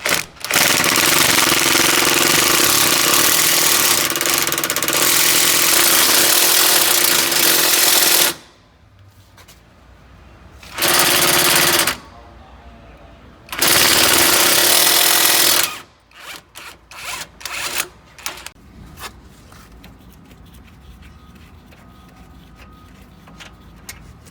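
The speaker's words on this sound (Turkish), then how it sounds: "darbeli somun tabancasıyla cıvataları yerinden söküp çıkartacağım" Pneumatic impact wrench hammering out control arm bolts during a front suspension rebuild, with long loud bursts of rapid rattling separated by short pauses, then sharp clanks and scattered metallic taps of the work continuing at close range.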